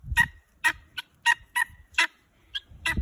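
Young guinea fowl, three keets hatched in June, calling outdoors in a series of short, sharp, close chirping cries with brief gaps between them, no talking over them.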